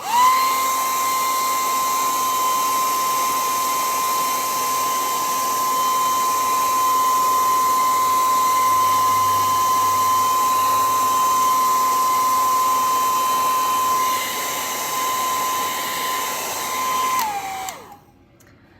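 A hair dryer drying paint on a painting of a moon and tree runs steadily and loudly for about seventeen seconds with a constant high whine, then switches off near the end.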